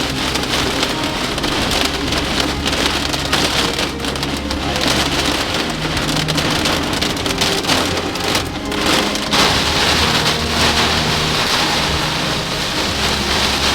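Heavy rain or hail pounds on a car during a storm while driving on a highway overpass, a dense, unbroken roar of drumming impacts close on the roof and windows, loud and steady.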